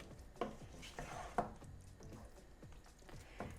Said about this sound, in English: So I am going to give it a good mix.